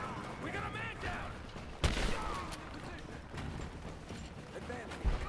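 Gunfire in a Rise of the Tomb Raider firefight, with scattered shots and bursts cracking beneath layered shouting voices and game noise, one sharp report standing out near the middle.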